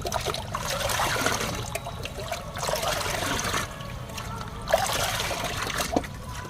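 Homemade liquid fertilizer for chrysanthemum plants being stirred and poured, a continuous watery swishing and trickling with splashy surges, close and moderately loud.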